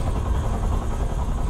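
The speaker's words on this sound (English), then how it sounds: "This is where that helicopter comes into play." Steady, loud rotor thrum of a helicopter in Metal Gear Solid 3: Snake Eater, a dense continuous drone with no speech.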